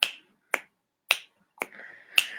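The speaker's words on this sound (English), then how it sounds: "snap." Five crisp finger snaps in a steady, roughly half-second rhythm, close and clear, with a faint hum under the last two.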